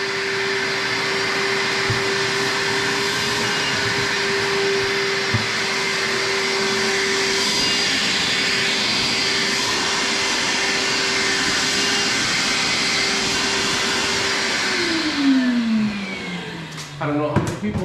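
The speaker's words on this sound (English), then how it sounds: "I don't know how many people vacuum their deer, but we just did." A vacuum cleaner drones steadily as loose hair is sucked off a whitetail deer hide, a constant whine holding for most of the clip before the motor winds down near the end with a few handling knocks.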